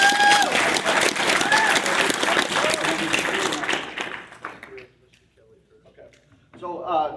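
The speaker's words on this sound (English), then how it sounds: "So we want to give you guys a round of applause." Crowd applause at the Sunday closing ceremony of the AFW 2022 convention, dense sustained clapping from a large audience that gradually fades out, with talk over it and renewed voices near the end.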